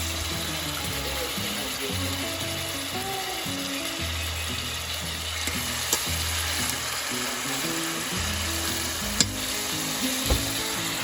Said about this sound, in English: The secret to chuck, my mother says, is to brown it.